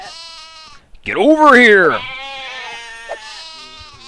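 Sheep bleating in the god game Black & White 2: loud, wavering bleats rise and fall for about a second, then a steady, fainter bleat holds underneath while a man calls out.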